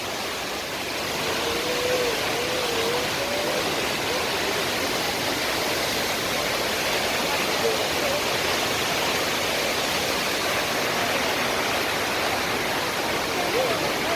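Palovit waterfall in Çamlıhemşin, Rize, flowing hard, a loud, steady roar of rushing and splashing water that fills the whole stretch without letting up.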